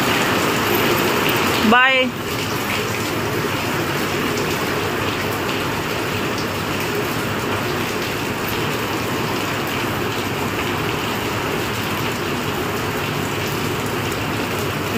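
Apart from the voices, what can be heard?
heavy rain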